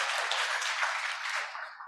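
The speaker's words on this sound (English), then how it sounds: "Everyone give Cameron a round of applause." An audience at a public astronomy lecture gives a volunteer a round of applause, a dense, even wash of clapping that holds steady and then begins to thin toward the end.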